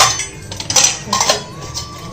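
Metal cooking pots, pans and utensils clink and clatter in a home kitchen, several sharp irregular knocks and scrapes close by, with a faint ringing tone near the end and no speech.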